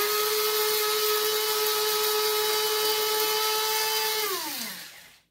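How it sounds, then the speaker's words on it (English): A loud electric grinder spins coriander, fennel and cardamom seeds for allspice seasoning, a steady high whine holding for several seconds before the motor winds down and cuts off near the end, with no voices. "Just make sure that all those coriander, fennel, and cardamom seeds are ground properly."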